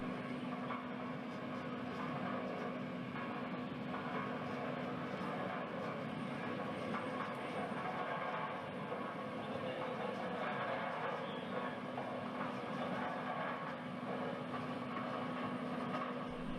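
A plate rolling machine pressing a steel flange in a heavy metal fabrication shop gives off a steady, dense mechanical rumble and hum with a constant drone, unbroken for the whole stretch at moderate level.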